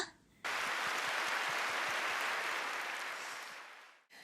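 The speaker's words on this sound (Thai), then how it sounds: "ทุกคนคะเราใช้โอกาสนี้มอบเสียงปรบมือแสดงความขอบคุณให้กับท่านประธาน และพนักงานของเราหน่อยได้ไหมคะ" Sustained audience applause fills a corporate gathering hall, a dense wash of many hands that starts abruptly, holds steady and loud for several seconds, then fades and cuts off.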